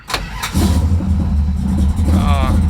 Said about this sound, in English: So we're gonna give her 2 pumps, and this thing ought to fire right up.